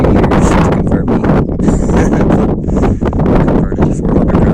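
Strong wind buffets the microphone on an exposed mountain trail on the side of Djouce in Wicklow, loud continuous rumbling gusts with faint higher whistling bursts and no clear talk.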